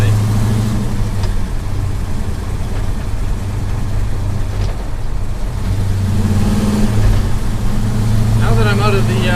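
A 1971 Chevelle SS with a T56 Magnum manual gearbox driving out of a residential area, a steady engine drone heard from inside the car with pitch shifts as it runs through gears, a voice talking over it near the end.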